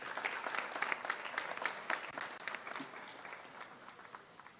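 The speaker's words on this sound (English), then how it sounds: "Let's have one more round of applause for all our GED grads" A crowd at an adult education graduation applauds the GED graduates, dense clapping that swells and then slowly thins, fairly faint and distant.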